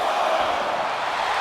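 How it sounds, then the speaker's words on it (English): A wrestling arena crowd in WWE 2K25 gives a steady wash of cheering and roaring, dense and even, with no individual voices standing out. "The crowd is fired up."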